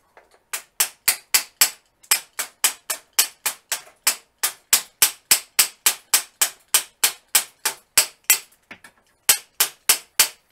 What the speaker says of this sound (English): I got a broken screwdriver to use as a hammer.